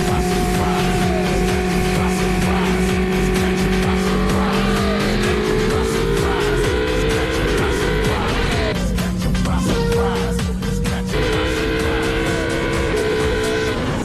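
A red GP2 race car accelerates at high speed on a public highway, its engine roaring loud and close with rising, shifting pitch throughout, mixed with a rushing tire and wind noise.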